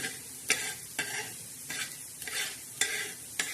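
Coriander seeds dry roasting in a pan, a soft rustling sizzle broken by about six sharp scrapes as they are stirred, close and moderately quiet, with no talking.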